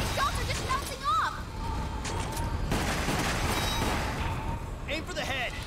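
Gunfire in the Wii game Resident Evil: The Umbrella Chronicles crackles in continuous rapid volleys amid game effects. Talk runs over much of it.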